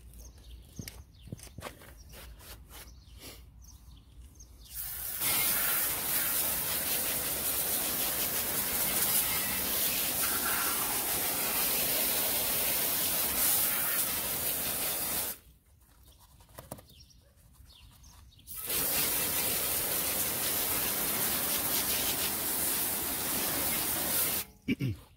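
Water spray rinsing wheel cleaner off a car wheel, a loud continuous hiss that starts after a few seconds of quiet handling sounds, stops briefly midway, then resumes.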